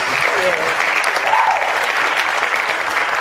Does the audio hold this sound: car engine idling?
no